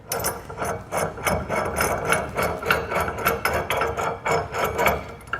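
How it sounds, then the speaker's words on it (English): Nut being tightened with its lock washer onto a 2-5/16 inch trailer hitch ball, producing a fast, regular series of close metallic clicks and taps that continue without pause. "I'm going to get this tightened up by hand."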